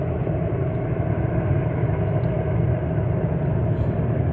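A military helicopter hovers low over the sea, its steady, dense rotor and engine rumble heard from a moderate distance as a continuous drone throughout, with no talk.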